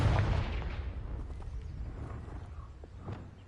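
A fire spell explodes in the Hogwarts Legacy video game, a loud booming blast at the start that decays into a rumbling, crackling tail with smaller pops afterward.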